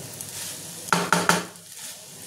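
Egg pasta is stirred in a pan: three quick metallic utensil clanks against the pan in a row, over a soft background sizzle, with no voices.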